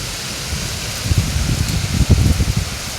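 Heavy rain falls outdoors in a steady broad hiss with a spattering patter that grows a little stronger toward the end, fairly loud and close, with no voices.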